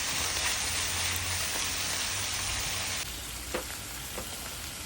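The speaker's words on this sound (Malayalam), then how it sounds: "ക്യാപ്സിക്കം ആഡ് ചെയ്യുക. രണ്ടും സോഫ്റ്റ് ആകുന്നവരെ സോട്ട് ചെയ്യുക." Capsicum and chilli chicken with dark soy sauce sautéing over a high flame in a pan, giving a steady, close sizzle and crackle that drops slightly in level partway through, with a few faint stirring clicks.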